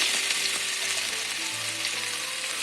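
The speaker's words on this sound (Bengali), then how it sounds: "কড়াইতে তেল নিয়ে নিয়েছি এবার একটু পেঁয়াজ দিয়ে দেবো" Onions hiss in hot oil in a kadai, a close, steady frying sizzle with a faint stir, and no voices over it.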